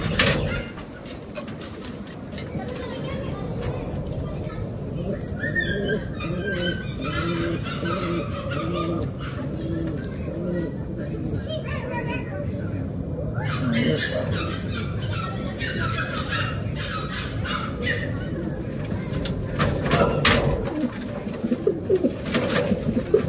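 Racing pigeons returning to the loft coo softly and steadily close by, with occasional wing flutters and squeals over a quiet outdoor background.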